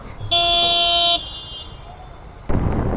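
Busy road traffic during a year-end motorcycle ride, with one loud, sustained vehicle horn blast lasting under a second, then a steady traffic rumble and a sudden burst of wind or engine noise near the end.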